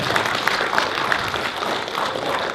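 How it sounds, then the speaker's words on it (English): A convention panel audience at Metrocon 2015 applauds, with a dense, steady patter of clapping and a few sharper claps standing out, fairly loud throughout. "They clapped for me because I was late."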